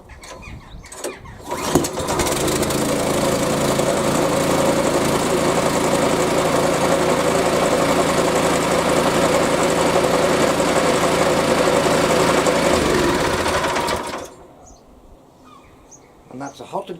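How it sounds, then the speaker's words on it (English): Hyundai HYSC210 212cc petrol lawn scarifier engine pulled into life and running, a loud steady close chugging drone for about twelve seconds before cutting out, with brief starting noises at the beginning. "And that's a hot and cold start on your scarifier."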